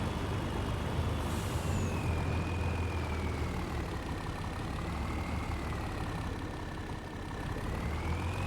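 A truck in the game Farming Simulator 25 rumbles along as its brakes engage, a low heavy engine drone beneath a thin, wavering whine, steady and moderately loud throughout with no talk.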